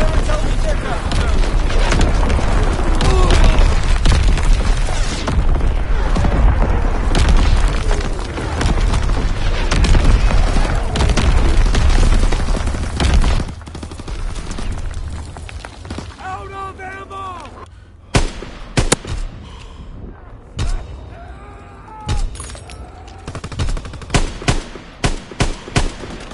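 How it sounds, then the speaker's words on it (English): Booming artillery blasts and rapid gunfire from the World War II shooter Call of Duty WW2 hit loud and dense for the first half, then drop back to scattered, sharper bangs while in-game voices shout over the action. "Incoming enemy artillery. Get to cover!"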